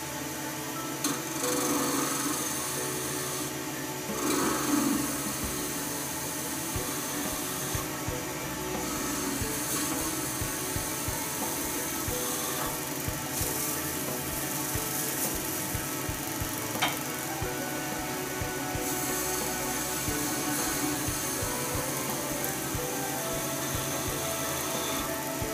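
A carbide tool scrapes steadily while shaping a razor shaving brush, a continuous mechanical whirring with gritty chatter and a few brief louder catches, with no talk.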